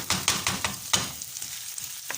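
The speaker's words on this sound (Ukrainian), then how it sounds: "перемішуємо наше м'ясо, щоб воно у нас смажилося" Meat frying with onion in a pan while being stirred, a close sizzle broken by several sharp scraping strokes of the spoon in an uneven rhythm.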